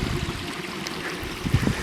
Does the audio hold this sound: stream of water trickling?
yes